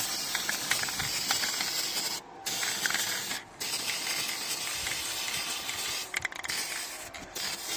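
An aerosol can of spray paint hisses indoors in several bursts, with brief pauses in between and a loud, close, airy spray.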